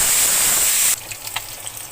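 Eggs frying in oil on a stove: a loud, steady sizzling hiss that cuts off abruptly partway through, leaving faint clinks and a quiet room.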